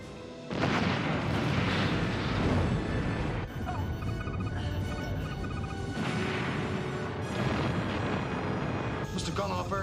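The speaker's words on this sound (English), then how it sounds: "22 seconds until the explosion." A Ketracel-white storage facility explodes in a Star Trek space scene, giving a loud sustained rumbling blast that swells and recedes across several waves, with heavy low booming and crackling debris throughout.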